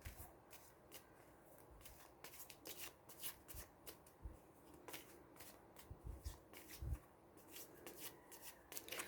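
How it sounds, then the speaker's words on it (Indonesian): Tarot cards being shuffled by hand during a reading, a quiet run of crisp riffling snaps and soft slaps repeating irregularly, close to the listener, with no talk. "sambil saya kocok kartu"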